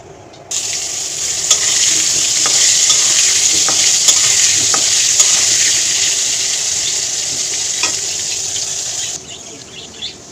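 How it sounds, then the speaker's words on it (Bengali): Potato pieces seasoned with salt and turmeric fry in oil in a wok with a loud, continuous, close sizzle that starts abruptly and cuts off before the end, with faint bird calls in the background. "কড়াই এখানে বসিয়ে দিয়েছি, ততক্ষণে এটা মেখে রাখবো। আলুটা ভেজে নেব।"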